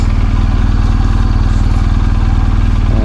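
A motorcycle rides out of the Olympic National Forest toward Port Angeles, its engine a loud, steady, close drone that stays even throughout, without talk.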